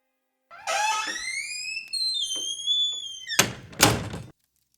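A front door opens at the far end of a hallway with a long rising creak, followed by two heavy thuds as it swings and settles, then silence.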